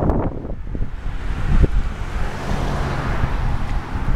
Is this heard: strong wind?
yes